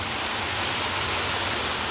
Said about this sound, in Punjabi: ਕਿੰਨੀ بارش ਪੈ ਰਹੀ ਹੈਗੀ